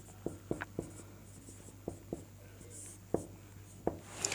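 A Sanskrit word is handwritten, producing soft, close scratching strokes and a few sharp taps spread irregularly over a few seconds against a faint steady hum.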